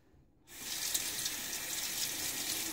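A bathroom tap gushes steadily for rinsing after a wet shave, starting abruptly after a short quiet moment and then flowing in a close, even hiss.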